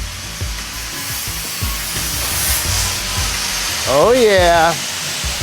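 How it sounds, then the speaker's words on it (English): Scrap metal is welded for art, giving a steady, close hiss and crackle with faint tapping, while a person speaks briefly partway through. "Now she's gonna weld."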